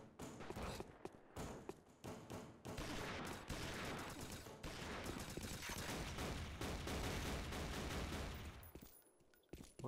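Rapid bursts of gunfire from the video game Repulse 3, dense rattling shots and thumps firing almost continuously at moderate volume with brief gaps.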